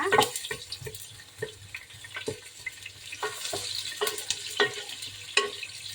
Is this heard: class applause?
no